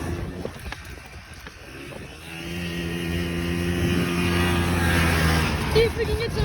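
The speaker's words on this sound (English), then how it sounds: "We're gonna do some dirt bike riding." A dirt bike engine drones and rises in pitch as it rides, heard close with wind buffeting the microphone and a voice speaking over it.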